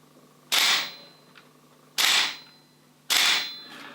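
A VFC FN FNC airsoft gas blowback rifle fires three sharp, loud, snappy shots spaced evenly about a second and a half apart, each with a brief metallic ring-off.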